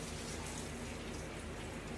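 Tap water sprays and splashes into a cooking blender jug being rinsed, a dense, steady hiss of running water close by with no pauses.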